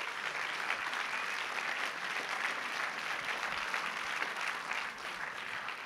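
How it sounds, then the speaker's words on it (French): Sustained audience applause at a festival opening ceremony honouring photographer Guillaume Perret, a dense, even clapping that holds steady throughout. "On peut l'applaudir aussi"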